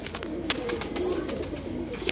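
Soft, low cooing from pigeons kept for a flying game rises and falls in short rolling phrases nearby, with a few light clicks and scuffs.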